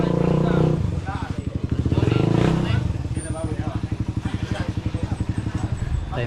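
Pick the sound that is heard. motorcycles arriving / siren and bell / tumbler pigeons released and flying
motorcycles arriving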